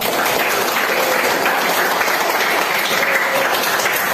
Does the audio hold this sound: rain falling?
no